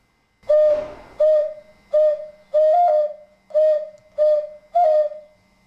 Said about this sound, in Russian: Но все равно получается только свист.